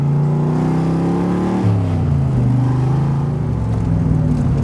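A 1963 Corvette Grand Sport engine growls loudly up close, rising through the revs then dropping at a gearshift before climbing again in a deep, throaty accelerating roar.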